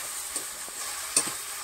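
Whole garlic cloves fry in a spice masala with a steady close sizzle, punctuated by a few light scrapes and taps of stirring.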